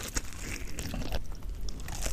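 Loud, close crunching and crackling of crispy potatoes being bitten and chewed, dense and continuous with no talking.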